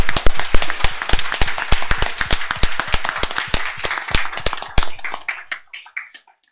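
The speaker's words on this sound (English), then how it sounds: "One more round of applause for these amazing Girl Scouts." Audience at a school board meeting claps for Girl Scouts, a loud, dense run of sharp individual claps from a nearby crowd that thins out and stops near the end.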